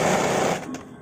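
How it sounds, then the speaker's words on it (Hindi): A sewing machine stitching a contrasting yellow neck strip onto a padded princess-cut blouse, a close, steady whirring run that slows and fades near the end. "मैं यहाँ पर दूसरा कलर का नेक पट्टी सिलाई कर रही हूँ"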